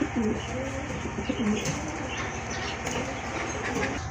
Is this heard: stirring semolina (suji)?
no